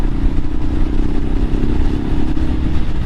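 A Royal Enfield Himalayan 400cc air-cooled motorcycle engine drones steadily and loudly while riding on Ortega Highway 74, a continuous low rumble with no speech.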